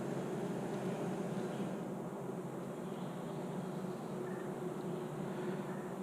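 Honey bees buzz steadily at a long hive, a dense, continuous drone close by with no voices.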